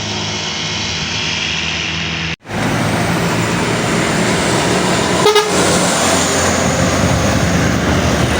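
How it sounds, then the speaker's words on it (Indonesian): Loud, heavy engine drone as a medium bus overtakes a Hino truck on a road in West Sumatra, with a short horn toot partway through and no talking. "bus medium mendahului truk Hino"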